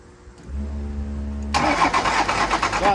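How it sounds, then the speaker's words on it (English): A Dodge W350 with a 12-valve engine, seized and flooded after sitting for a decade, cranks with a low whir, then suddenly bursts into a loud, rough, pulsing clatter up close. "let's go ahead and hop in it and see what happens when we try and crank it over"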